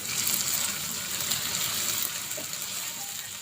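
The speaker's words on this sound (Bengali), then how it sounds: "লবণ এবং হলুদ মেখে রাখা মাছগুলো ভেজে নিচ্ছি।" Rui fish pieces rubbed with salt and turmeric frying in hot oil, a continuous close hiss and sizzle that stays steady without talking.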